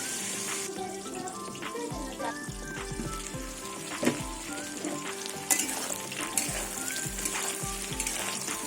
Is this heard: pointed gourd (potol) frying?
yes